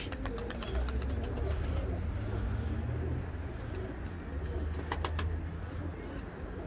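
Pigeons cooing in a loft of long-bred birds, low soft rolling coos repeating under faint background noise and some fluttering, with occasional chirps.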